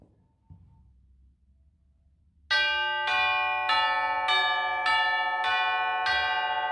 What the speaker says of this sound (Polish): kilkanaście wież kościelnych z różnej wielkości dzwonami, które wprowadzone w ruch w odpowiedniej kolejności wygrywają melodię